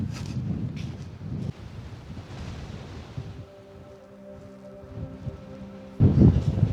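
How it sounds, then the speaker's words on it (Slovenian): Strong mountain wind buffets a microphone on a high plateau in late autumn, producing heavy low-frequency rumbles and gusts that surge at the start and again at the end, with a quieter stretch in between where a faint steady hum sits underneath. "Ne vem, koliko se sliši na mikrofonu, ampak piha ful."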